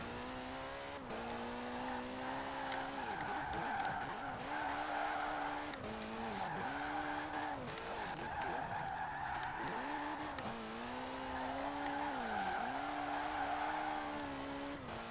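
A drift car in Forza Horizon 4 slides and skids continuously, tyre squeal rising and falling in long sweeps over a steady engine drone, with occasional sharp clicks on top throughout.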